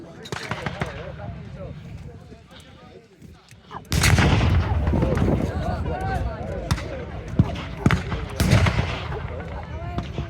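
Re-enactment artillery from a WW2 wartime show in Yorkshire booms repeatedly in the distance, heavy thuds and sharp reports rolling over a loud, rumbling outdoor crowd backdrop with talking throughout.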